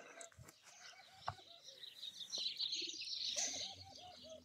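Birds in an aviary at a breeding setup chirp and call in a busy overlapping mix, with cooing-like repeated notes and scattered clicks and knocks, all fairly faint.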